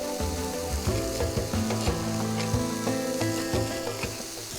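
Ingredients sauté in a hot pan while preparing banana flower kola balls and a nungu vatha kuzhambu, a steady close sizzle with scraping and stirring knocks, no voices over it.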